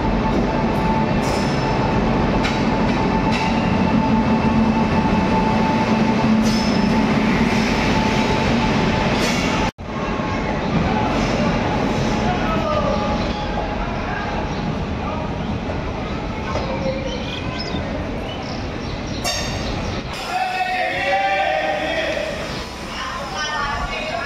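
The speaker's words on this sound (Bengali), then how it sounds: "এই যে এখন 11:28 ট্রেন ইন করে গেল।" A train rolls into a station, its loud continuous rumble and rattling wagons filling the scene for a long stretch, with brief breaks and voices talking faintly amid the noise.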